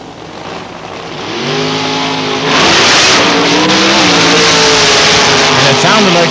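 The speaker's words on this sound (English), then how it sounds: "The black car will move first here on the tower side." A 477-cubic-inch big block Chevrolet drag race car at a 1992 Labour Day drag meet at London Motorsports Park idles with a loud, throbbing roar, then launches hard into a sustained, climbing engine howl, close and very loud, with an announcer talking over it.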